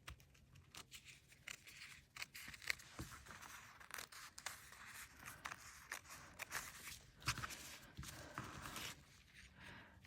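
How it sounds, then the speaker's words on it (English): Scissors snip repeatedly through paper in quick, uneven cuts, close and quiet, with faint rustling between the snips. "so we have to trim it with scissors"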